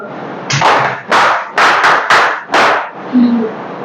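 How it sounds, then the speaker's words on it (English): A classroom group performs a rhythmic power clap: six loud, sharp bursts of clapping in a steady pattern, each swelling and cutting off, close and unaccompanied by talk. "That's the power clap."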